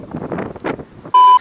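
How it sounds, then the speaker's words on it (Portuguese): Strong wind buffets the microphone, giving low, uneven rumbling gusts for about a second before a loud, steady electronic beep cuts in. "Nossa senhora, que vento."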